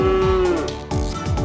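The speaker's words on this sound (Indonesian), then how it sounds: "Cow." A cow moos in one long, loud, close call that trails off, then a second moo begins, with no voices around it.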